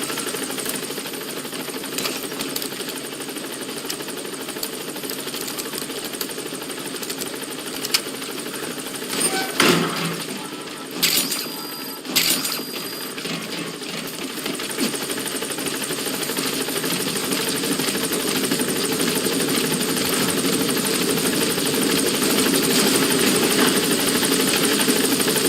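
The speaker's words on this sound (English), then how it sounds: "Support helicopter has arrived." The support helicopter's engine in Metal Gear Solid V gives a steady, whirring drone throughout, broken by a few sharp bursts and growing slightly louder toward the end.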